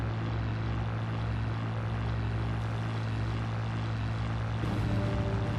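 Attack planes fly over the Pacific in the video game Battlestations Pacific, heard as a steady, loud propeller engine drone with a low hum that holds throughout and swells slightly near the end, with no talk.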